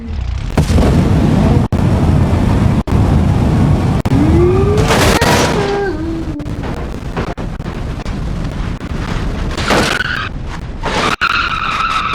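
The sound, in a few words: spawned car skidding in BeamNG.drive video game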